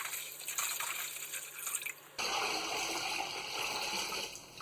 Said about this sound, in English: I'm going to go ahead and fill this up with some water